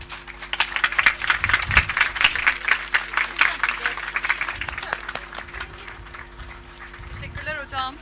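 A crowd claps steadily for graduating health-services students at a university oath ceremony, a dense sustained applause that gradually thins out, with a voice speaking briefly near the end.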